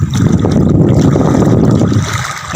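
Strong wind buffets the microphone on a seashore with big waves, a loud low rumbling roar with gusty fluctuations and a faint watery wash beneath.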